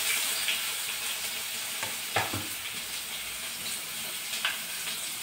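Onion sizzles in hot oil with cumin and curry leaves, a steady bright hiss with a few spitting crackles and occasional stirring clicks, close and continuous.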